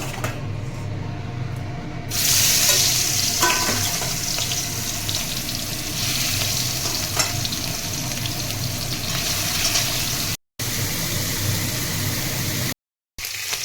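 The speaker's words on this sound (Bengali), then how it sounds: "এখানে চিংড়ি মাছ ভাজা করে নেব" Prawns fry in a pan with a dense, steady, close hiss of sizzling oil that runs continuously, broken only by two brief cuts to silence.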